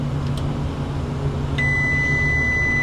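A multimeter gives a sustained continuity beep while testing the terminals of a faulty low pressure safety control on a Copeland 6D compressor, a clear steady tone starting partway through over a constant mechanical hum.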